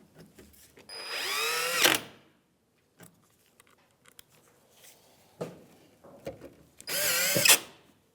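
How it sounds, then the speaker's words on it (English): A power drill drives Phillips screws into the cowl of a 1992-1996 Ford F-150 pickup, with two loud, close whirring bursts that rise in pitch as each screw seats. Faint clicks and handling noises fill the gap between them. "we're going to put our Phillips screws in."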